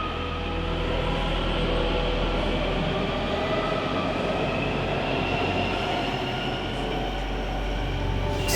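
A metro train runs steadily with a loud, continuous rumble and rail noise, its wheels rolling on the track throughout, with no voices heard.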